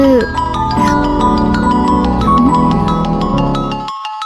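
A mobile phone rings loudly in a Tamil TV serial scene, a steady melodic ringtone repeating its notes for several seconds before cutting off abruptly.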